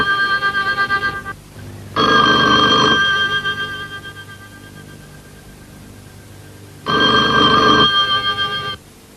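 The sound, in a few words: telephone ringing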